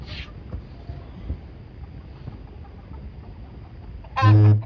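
An Aseel cross chicken clucks loudly and close at the very end, after a few faint squawks at the start over a rough, noisy background.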